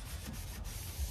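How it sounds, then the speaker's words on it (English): Sandpaper of 240 grit rubs across a workshop surface in a soft, steady, low scraping hiss, close and quiet, with no talk. "I'm sanding with 240 paper here now, just to get a little bit scratches."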